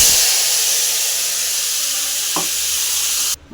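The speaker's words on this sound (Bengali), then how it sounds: "এবারে আমি তেজপাতা আর জিরে ফোড়ন দিয়ে দেবো" Bay leaf and cumin temper in hot oil, giving a loud, close hissing sizzle that holds steady, marked by one brief knock partway through, before cutting off abruptly near the end.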